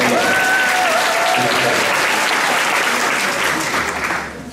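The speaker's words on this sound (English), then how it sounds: "Give yourselves a round of applause" Audience applause at a political speaking event, a dense, loud and steady wash of clapping that holds for several seconds before starting to thin out at the end.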